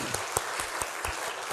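A church congregation bursts into a short round of brisk, steady clapping for the Hallelujah choir, accompanist and conductor, with the sharp claps close and even.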